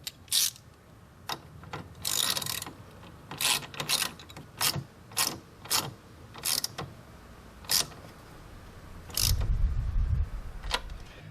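Ratchet clicks in short rhythmic bursts as the negative battery terminal is tightened on a 2018-2024 Buick Enclave or Chevy Traverse, close and fairly quiet, with a brief metallic clunk near the end.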